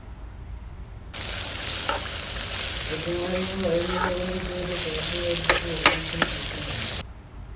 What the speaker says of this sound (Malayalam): ഉള്ളി ചെറുതായിട്ടൊന്ന് ഇങ്ങനെ വഴറ്റുക